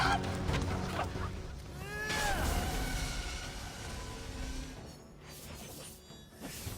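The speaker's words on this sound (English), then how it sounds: "Helios' annoying bird that screeches every time the sun comes up?" Electryon, the legendary rooster boss of the video game Immortals Fenyx Rising, lets out a loud, piercing screech with rising and falling crows over a busy game soundscape.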